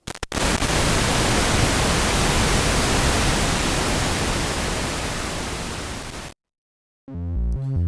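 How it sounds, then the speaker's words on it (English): Pink noise from the noise generator of a 1969 Moog IIIP modular synthesizer, a loud, dense, steady rushing hiss lasting about six seconds before stopping abruptly; a few tonal synth notes follow after a brief silence. "It's multipled out, and then pink noise."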